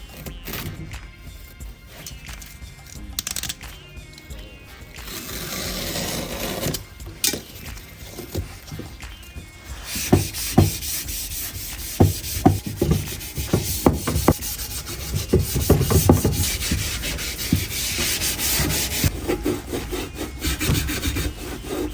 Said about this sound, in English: I'm going to use a block on the flat surfaces.